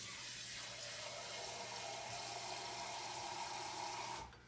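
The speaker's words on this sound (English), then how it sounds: "I'm going to start it then with 2 cups of water." Two cups of water pour into a pot to start a demi-glace sauce, a steady hissing, splashing stream that runs evenly, then cuts off abruptly just before the end, with no talking.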